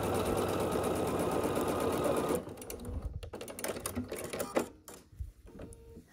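A sewing machine stitches the last square onto a quilt block, running in a steady, dense whirr for about two seconds before stopping, followed by light handling noises.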